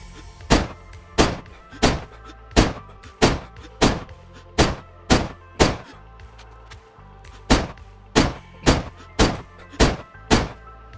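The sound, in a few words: Dragunov 7.62 rifle gunshots in a video game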